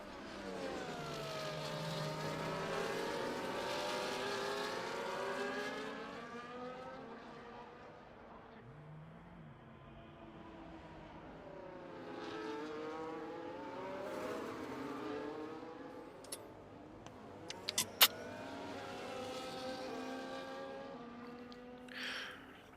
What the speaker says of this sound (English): safety car in the pit lane. We are racing again.